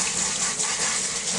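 A close, steady hiss of water spraying from a sprayer to rinse soap off, an even gush lasting the whole moment with no voices.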